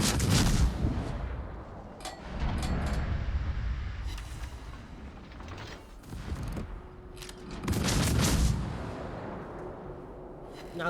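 Naval shellfire from warships in a video game, with booming heavy blasts and rumbling explosions recurring over a continuous battle din, a loud burst near the start and another toward the end.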